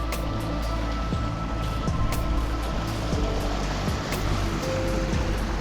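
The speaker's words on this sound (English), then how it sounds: "The rain's coming on again." Rain falling by a river junction in Bibury, a steady broadband wash of patter and flowing water throughout, close and continuous with no talk.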